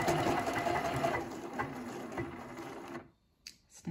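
Juki HLZ-G220 sewing machine stitching lettering gives off a fast, even mechanical whir and clatter at close range for about three seconds, then stops, followed by a few faint clicks.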